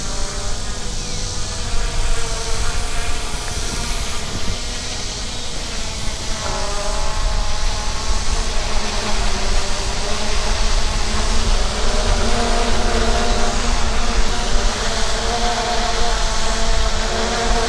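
An MJX Bugs 2W brushless GPS quadcopter drone hovers and flies back toward its home point, giving a steady, close, buzzing whine with shifting harmonic pitch that holds loud and constant throughout, with no talking.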